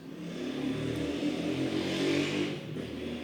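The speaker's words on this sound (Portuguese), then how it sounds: "acaba de passar uma moto por aqui com um motor barulhento" A motorcycle with a noisy engine passes nearby, its mid-pitched revving swelling to a peak and then fading as it goes by.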